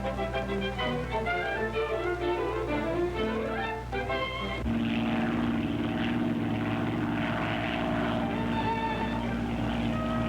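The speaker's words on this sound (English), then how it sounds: "As the great engines of our flying clipper ships lift us once again into the sky above the China Sea" A Pan Am propeller airliner's engines run through takeoff: a tonal, harmonic drone shifts partway into a fuller, rougher roar that stays steady and fairly loud, with no talking.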